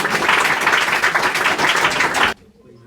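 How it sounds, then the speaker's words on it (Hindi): Loud, dense clapping from students at a class 10 boys-versus-girls school quiz contest, greeting a contestant and stopping abruptly after about two seconds. "इसके लिए जोरदार ताली"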